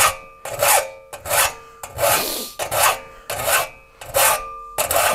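A hand file rasps across the teeth of an old two-man crosscut saw in about eight steady strokes, each a harsh scraping burst with a faint metallic ring, close and unaccompanied.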